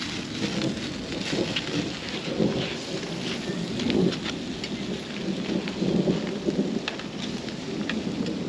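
Steady rain pattering on surfaces at a campsite along the Blue Ridge Parkway, with low thunder rumbling repeatedly underneath, a continuous wet wash filling the scene and no voices.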